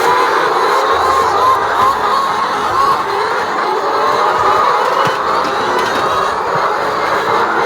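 Laying hens in a poultry house raise a loud, continuous clamour of overlapping clucks and squawks, a dense, unbroken din that fills the space throughout.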